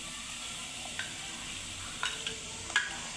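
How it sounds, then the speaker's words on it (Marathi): Masala spices frying in a pan while cooking spicy goat mutton, a quiet steady sizzle with a few soft stirring scrapes and light clinks, no voices. "तोपर्यंत मसाला आपला तळतो."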